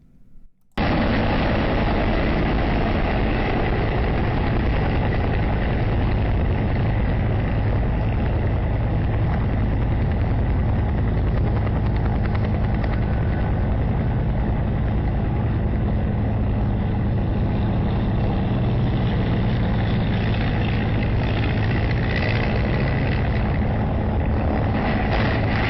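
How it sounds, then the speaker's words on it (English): A helicopter passes close to a parked Cessna 120 airplane at an airfield near hangars, giving a loud continuous rotor and engine roar that starts abruptly and holds steady for about twenty-five seconds. "You'll see a full 20 seconds of time elapse from the time the helicopter passes to the time that the Cessna 120 gets tangled up in its wake turbulence."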